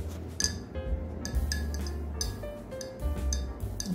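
A short spoon clinks against a glass while stew peas are stirred, giving several light, bright taps spaced unevenly over a low background hum, with no voices.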